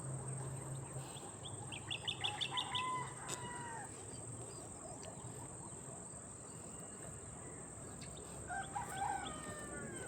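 Several birds call in short chirping bursts against steady insect buzzing and a continuous high drone outdoors; a rooster-like crow sounds in the distance.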